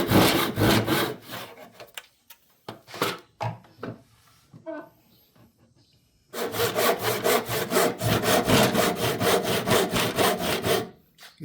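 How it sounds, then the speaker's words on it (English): A hand saw cuts through wood clamped in a vise, the strokes coming in steady rhythmic bursts, close and loud. The sawing pauses in the middle for a stretch of scattered knocks and handling sounds, then resumes as continuous back-and-forth strokes. "You see me dropping my hand and sawing this way?"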